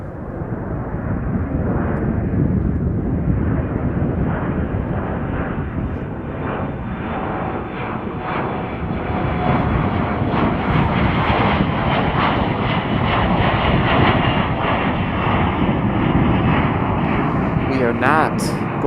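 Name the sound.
aircraft at Chicago O'Hare airport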